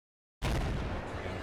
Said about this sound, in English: First explosion.